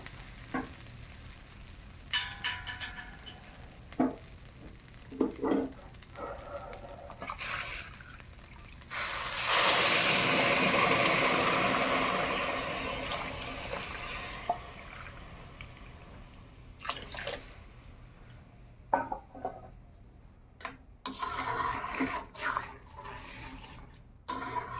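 Water pours into a pan where rice is frying for pulao, a loud rush of sizzling and hissing swelling for several seconds amid intermittent stirring and clinks, with no talking.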